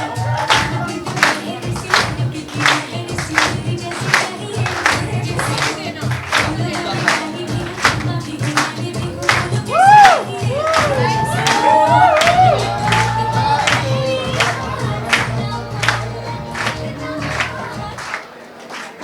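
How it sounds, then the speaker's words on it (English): Team members at a Bollywood song launch event clap and cheer together, with sharp rhythmic claps, whoops and shouts rising mid-clip over a steady crowd murmur and talk. "Can you all clap, please?"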